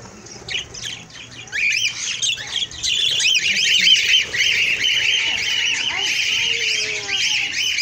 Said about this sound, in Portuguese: Passarinho. Daqui a pouco eles voltam.